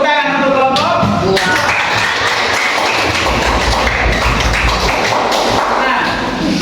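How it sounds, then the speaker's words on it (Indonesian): A classroom of students applauds a group, loud, dense clapping that continues without a break, with some thumps and room noise mixed into the clatter. "tepuk tangan untuk kelompok"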